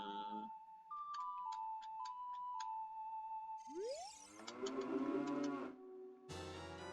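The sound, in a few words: cow mooing in Ocarina of Time video game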